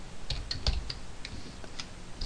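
Typing on a computer keyboard: steady, quiet key clicks in an irregular rhythm, close and alone without speech.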